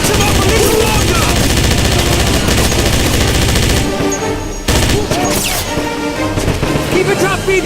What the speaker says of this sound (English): DJ, they need you defending us with the MG-42. Good shooting!